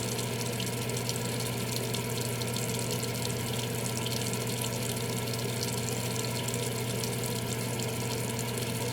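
Water runs steadily from a bathroom sink tap, a continuous even hiss with a low hum underneath, close by and unbroken throughout.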